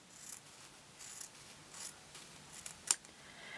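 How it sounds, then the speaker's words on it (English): Scissors cut quilt fabric along a marked line, several soft close snips and slides of the blades in a loose rhythm, ending in one sharper click, quiet with no talking. "And now we cut on our line."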